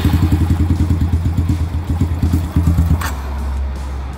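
A Yamaha YBR125 motorcycle fitted with a 150cc big-bore kit idles nearby with its air filter removed, giving a loud, rhythmic low putter that runs steadily and then settles into a smoother hum near the end.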